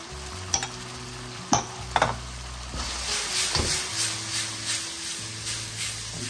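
Chilli chicken fries and is stirred over a high flame, with several sharp clanks of a spatula against the pan followed by rhythmic scraping strokes over a continuous close sizzle.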